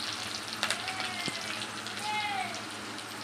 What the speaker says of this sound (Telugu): ఆనియన్ని, పచ్చిమిర్చి, కరివేపాకుని బాగా ఫ్రై చేసుకోవాలండి.